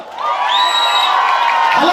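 A wedding crowd at a Kazakh betashar bride-unveiling ceremony breaks into loud, sustained cheering and clapping, with whoops and high shouts rising over the din for about two seconds.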